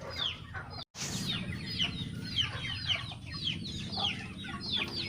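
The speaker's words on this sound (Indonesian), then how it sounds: "di atas ini adalah tempat induk-induk mengeram" Hens in a chicken coop used for brooding eggs cluck repeatedly in short, overlapping calls from several birds nearby. The busy chatter continues throughout over a low background hum, briefly cut by a sharp click near the start.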